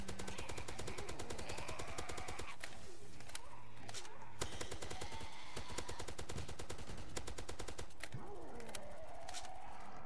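Rapid automatic gunfire from a PDW-R weapon in the Roblox zombie game Zombie Uprising, with dense bursts of shots running nearly throughout alongside game creature noises and effects.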